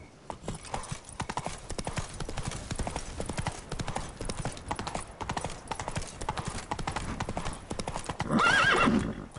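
A horse gallops steadily with rapid hoofbeats in The Witcher video game, close and continuous, ending in a louder neigh near the end.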